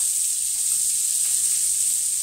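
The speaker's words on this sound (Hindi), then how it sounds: "पहले मैं इसको थोड़ा सा भूनूंगी।" Karonda berries and green chillies for pickle roast in a pan with a steady, close, continuous hiss of sizzling oil and no other sounds.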